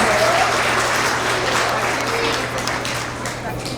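A school award assembly audience for kindergarten to second grade claps in a dense, steady round of applause that carries through to the end, with a voice briefly heard over it.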